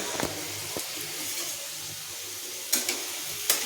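Chips frying in hot oil on a home stove, a steady soft sizzling hiss throughout, punctuated by a few brief clinks or stirs, close and alone without speech.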